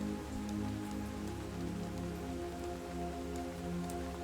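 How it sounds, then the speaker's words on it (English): Steady, dense rain pours down in a continuous close hiss of drops striking a surface, with a low, sustained droning tone running beneath it throughout. "you linger just for a moment next to this curtain of rain"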